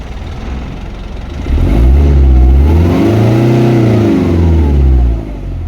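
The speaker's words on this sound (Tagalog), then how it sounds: "So ngayon i-try natin i-rev." An Isuzu 4HL1 diesel engine with a low-power fault idles, then revs up hard and holds a loud, steady, rising roar for several seconds before dropping back toward idle.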